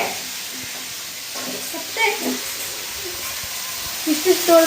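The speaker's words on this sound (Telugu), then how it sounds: "ఇప్పుడైతే క్యాలీఫ్లవర్ ఫ్రై చేస్తున్నాను" Cauliflower frying in a pan in a home kitchen, a steady low sizzle and hiss with a few louder crackling bursts near the end.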